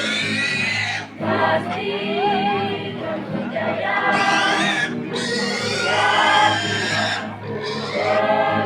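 A pig squealing loudly and almost without pause during preparations for a Toraja Hindu Alukta ritual, shrill cries rising and breaking in bursts over a murmuring crowd.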